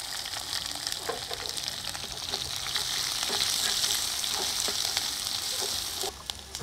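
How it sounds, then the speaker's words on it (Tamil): Chopped onions and green chillies sizzling in oil in a pan for a Tamil kovakkai poriyal, a steady, soft hiss of frying with occasional stirring scrapes, close and continuous. "இப்போ வெங்காயம் வதங்கிருச்சு."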